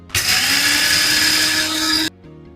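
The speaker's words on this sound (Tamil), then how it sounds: "இதுதான் என்னுடைய அடிக்கிற மில் மாதிரி ஒன்று வச்சுருக்கிறேன் மில்லு அடிக்கலாம்" A small electric grinding mill pulverises a lentil flour mix, a loud, steady high-pitched whine for about two seconds that cuts off abruptly, leaving a quieter hum.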